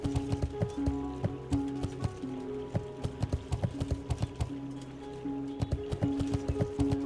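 Horse hooves clip-clop in World of Warcraft TBC Classic, a brisk, even stream of close, crisp steps over a bed of game tones, with no talking.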